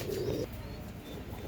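A Punjabi pigeon gives a short, low coo close by, heard alone as one brief murmuring call.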